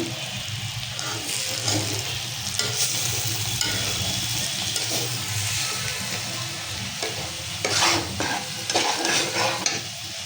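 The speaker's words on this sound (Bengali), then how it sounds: "মশলাগুলো ভালোভাবে কষিয়ে নিতেছি" Masala spices frying in a pan for a taro (kochur mukhi) fish curry, with steady close sizzling and repeated scraping stirs throughout, swelling louder near the end; no talking.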